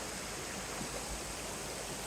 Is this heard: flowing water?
yes